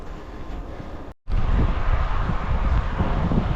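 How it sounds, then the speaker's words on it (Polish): Strong wind buffeting a microphone on a long-distance bicycle ride through Poland, a loud roaring rumble that cuts out briefly for a moment, then returns harsher and steady. "Dzisiejszy wiatr to jeszcze takiego wiatru nie miałem do jazdy"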